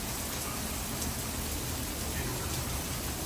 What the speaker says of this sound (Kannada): ಬೆಳಗ್ಗೆ ತುಂಬ ಬಿಸಿಲಿತ್ತು, ಇವಾಗ ತುಂಬ ಮಳೆ ಬರ್ತಾ ಇದೆ.